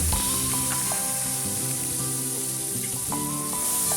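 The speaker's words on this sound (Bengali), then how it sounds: "ফোড়নটা একটু ভাজা হলে একটা মিডিয়াম সাইজের টমেটো কুচি দিয়ে দিলাম" A medium chopped tomato hits hot oil tempered with black cumin seeds and slit green chillies, producing a loud, continuous hissing sizzle that stays steady throughout with no voices.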